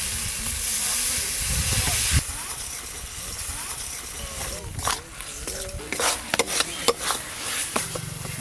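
Bengali spice paste of dried chilli paste and turmeric hisses and sizzles in hot oil as masala rinse water is poured in, followed by scattered crackles and scraping while a voice talks.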